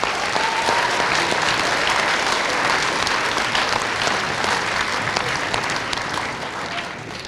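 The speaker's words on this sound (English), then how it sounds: "give our community members and our parents a round of applause as well" Sustained loud applause from a large crowd in a school gym, steady clapping that fades slightly toward the end.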